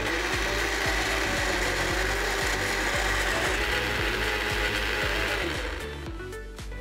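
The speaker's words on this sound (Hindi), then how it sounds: "इसे अब हम ग्राइंड कर लेंगे।" A blender grinds a green smoothie of lemon juice and chilled water, running with a loud, steady whir and a rattling chop close by for several seconds before it winds down, with no talking.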